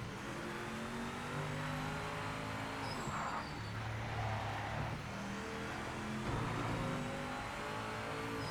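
Race car engine in Project Motor Racing droning steadily while the tyres lock and skid under hard braking, a continuous moderate roar with shifting pitch and brief scrubbing bursts.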